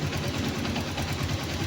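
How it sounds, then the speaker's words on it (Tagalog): A motorcycle engine idles with a rattling clutch from a worn clutch bearing, a steady close mechanical drone with fast rhythmic pulsing and a faint knock running through it. "Obserbahan nyo lang yung tunog ng makina nyo."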